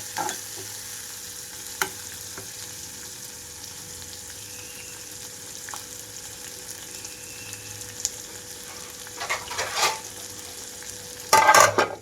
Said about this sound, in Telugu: ఇక్కడ ఉల్లిపాయలు అంతా కూడా వేగిపోయే వరకు మూత పెట్టి ఉంచాలి.